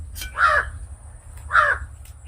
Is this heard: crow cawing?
yes